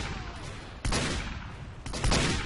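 Two bursts of gunfire in Team Fortress 2, a shooter video game, each one sharp, loud and close, arriving about a second apart with continuous game noise underneath.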